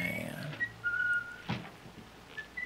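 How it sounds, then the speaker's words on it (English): A man whistles a few short, thin melodic notes at a moderate distance, faint against a background of old film soundtrack hiss and music. "Oh, he's whistling?"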